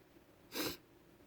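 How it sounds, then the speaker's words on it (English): A single short, sharp nasal sniff or snort, close and fairly loud, lasting about a quarter second against a quiet background. "Sorry about the sniffles."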